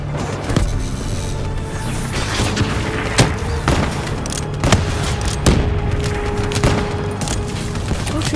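Gunfire in the Call of Duty: Black Ops 3 video game, repeated sharp shots and bursts scattered irregularly across the clip over a constant noisy battle background, with little talk.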